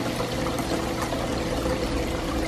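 A small decorative tabletop fountain, set beside a glowing Halloween jack-o'-lantern, trickles and pours steadily at close range, with a soft continuous splash and babble and no voices.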